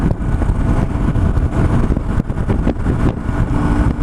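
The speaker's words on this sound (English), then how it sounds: "This engine's got so much pull, a lot of pull in this engine." A BMW R1150GS motorcycle engine pulls steadily at highway speed on Highway 101, a loud continuous rumble layered with heavy wind buffeting, with no one speaking.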